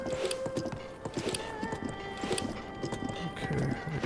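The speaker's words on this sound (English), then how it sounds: "I guess I have to control the horse a little bit over here" Hooves of a horse in Zelda: Breath of the Wild clip-clop in a steady galloping rhythm under game music and ambience, with a voice talking over it.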